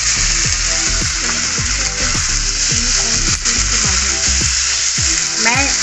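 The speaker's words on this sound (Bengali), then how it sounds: "হালকা করে পনিরের টুকরোগুলো তেলে ভেজে নিতে হবে।" Paneer pieces frying in mustard oil, a steady bright sizzle running throughout, close and loud, under a voice talking continuously.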